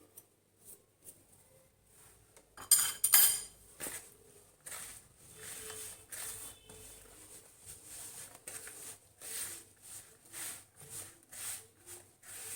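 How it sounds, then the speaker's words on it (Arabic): Bread dough for small puffed Shami flatbread being kneaded by hand, soft rhythmic slaps and squishes repeating in an even pulse, close and fairly quiet. "وبعد كده هبدأ بقى اعجن كده بايدي."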